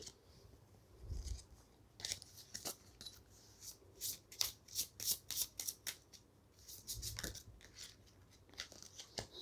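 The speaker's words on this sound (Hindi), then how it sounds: "दो कार्ड्स आए हैं, मैं वापस शफल करूँगी।" Tarot cards are shuffled by hand, soft crisp riffling and snapping bursts repeating in uneven clusters, close and fairly quiet.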